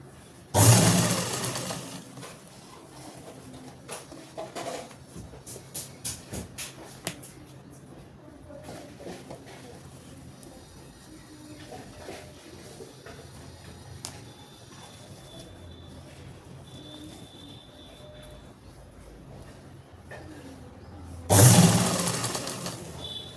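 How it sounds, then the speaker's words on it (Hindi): A sewing machine stitching a kurti side pocket hums steadily at low volume for most of the span, framed by louder bursts of motor noise at the start and end. "ये देखो, इस तरह से आपको सिलाई लगानी है।"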